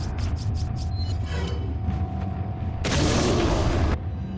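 A flash grenade bursts in Resident Evil 4, a broad loud blast of noise lasting about a second that rises over steady game ambience and background music, with no talk.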